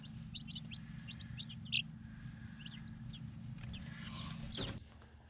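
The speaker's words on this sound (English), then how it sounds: "I've got chickens" Backyard chickens cluck in short, scattered bursts over a low steady rumble, fairly faint and a little distant, with one sharper call standing out near the middle.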